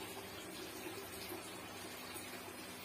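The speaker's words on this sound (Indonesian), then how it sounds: "Kemudian kita memakai air terjun untuk lebih mempercantik." A small decorative waterfall in a home aquarium runs steadily, giving a continuous close splashing and trickling wash of water with no breaks.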